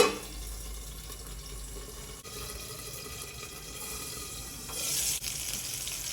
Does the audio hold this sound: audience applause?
no